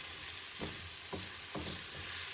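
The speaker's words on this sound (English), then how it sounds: "Try to brown them somewhat. I like browned onions." Onions browning in a pan for salsa sizzle steadily, with three soft stirring scrapes spaced through the short stretch, close and moderately loud with no talk.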